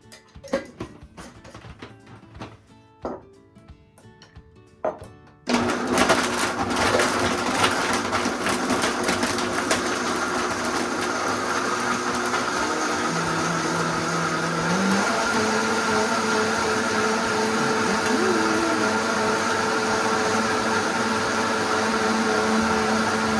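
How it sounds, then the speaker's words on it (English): A blender with ice kicks on abruptly after a few quiet clicks and runs loud and steady, a dense motor whir that doesn't let up. "Try to talk over that blender."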